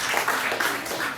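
A church congregation applauds the Lord in a steady burst of clapping lasting about a second, fairly loud and close, with a faint voice mixed in.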